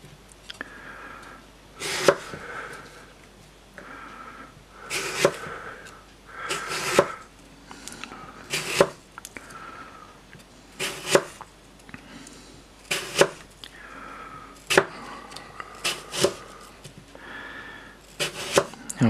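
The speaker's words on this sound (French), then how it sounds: "Ensuite, je vais la couper comme ça. En fine tranche, vraiment très très fin" A knife slices an apple into very thin pieces on a board, giving a series of sharp, close cuts that come singly and in quick clusters, with quiet pauses in between.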